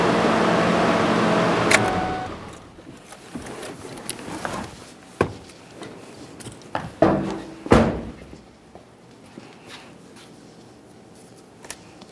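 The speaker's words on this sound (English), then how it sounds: "go ahead and close the hood and take it for a road test" A hood slams shut on a 1998-2011 Ford Ranger with a 2.3L four-cylinder, giving a couple of sharp, close thumps after some shuffling and handling noises in a quiet garage.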